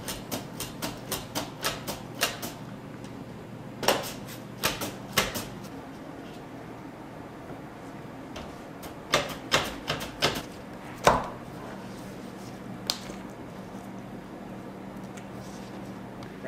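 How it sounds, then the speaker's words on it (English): Potatoes being thinly sliced with a knife on a cutting board, quick runs of crisp taps in bursts separated by pauses, close and fairly quiet. "I'm going to get the potato gratin ready by thinly slicing these potatoes"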